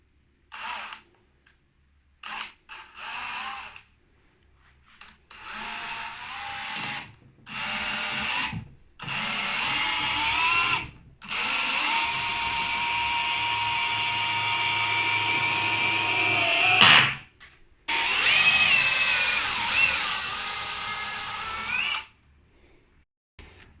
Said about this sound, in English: Now let's drive this 140 millimeter screw without pilot hole.